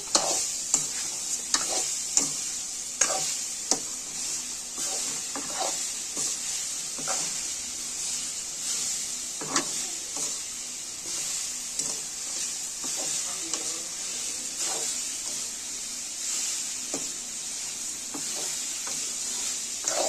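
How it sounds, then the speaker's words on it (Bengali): Daal with jackfruit seeds sizzling and frying in a pan while being stirred, giving a steady bright hiss broken by repeated scraping clicks of the spoon, close and alone with no talk. "নেড়ে নিচ্ছি।"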